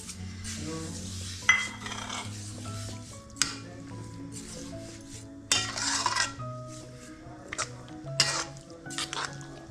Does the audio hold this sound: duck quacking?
no